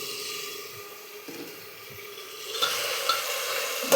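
A handful of raw onion and meat sizzle and fry in a pan, a soft, steady crackle with occasional stirring that grows a little louder toward the end.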